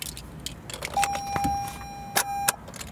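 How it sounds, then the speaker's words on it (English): A Toyota RAV4's ignition switched on, heard as key jingles and clicks followed by a sustained electronic chime tone and a couple of sharp beeps inside the cabin, with no engine roar. "Now I will turn on the vehicle."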